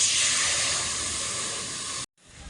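Water poured into a hot kadai on a wood-fired clay stove, a loud, steady hiss of steam and spray that cuts off abruptly near the end, followed by quiet rustling.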